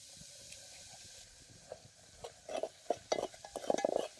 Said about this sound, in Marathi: तेल चांगलं गरम झाले दोन पळ्या चटणी घालतो